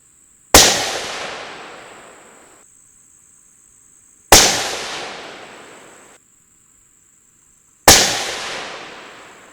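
Three rifle shots fired during a test of a Vortex Diamondback Tactical 6-24x50 scope, each a sharp loud crack with a long decaying tail, spaced a few seconds apart.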